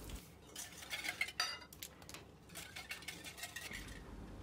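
A spoon clinks and scrapes against a bowl while stirring lukewarm milk and water with sugar and dry yeast, giving irregular close metallic taps that peak briefly and then settle into softer, continuous swirling.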